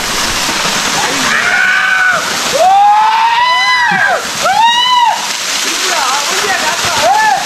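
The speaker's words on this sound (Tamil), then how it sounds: "மேலே இருக்க அருவிலையும் இங்கேயும் குளிச்சுக்கிட்டு தான் இருக்காங்க" Water splashing and rushing at Kuttupatti Falls near Natham, Dindigul, with people bathing under the cascade; a steady, loud wash of water runs throughout while voices call out over it.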